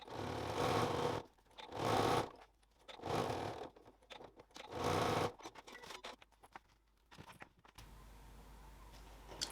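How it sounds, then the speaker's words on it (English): A sewing machine stitches around fabric within the seam allowance to baste it, running in several short bursts separated by pauses, fairly quiet and close, with a softer stretch at the end. "I'm going to stitch all the way around within the seam allowance just to baste it in place."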